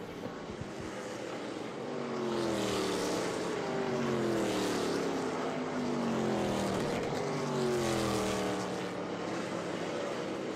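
ARCA Menards Series West race cars battling at Evergreen Speedway, their engines swelling loudly in close succession with pitch sweeping up and down as they pass, then a sustained roar as the pack goes by.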